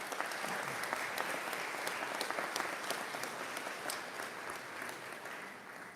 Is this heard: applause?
yes